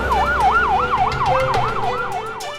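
Loud, close ambulance siren wailing in a fast repeating up-and-down cycle, about eight sweeps, alone with road noise beneath.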